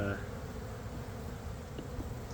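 Honeybees buzz steadily and close during a beehive inspection, a dense continuous hum with a brief snatch of speech at the very start.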